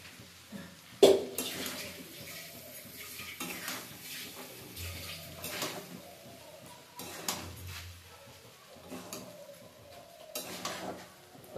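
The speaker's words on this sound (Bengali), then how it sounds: "এবার ভাতটাকে এটার সঙ্গে একটু ভালো করে নাড়িয়ে নেবো যাতে সবটা পুরোটা মিশে যায় সুন্দরভাবে" A utensil scrapes and knocks against a pan while fried rice is stirred and mixed, soft irregular metallic clinks and taps in a quiet kitchen.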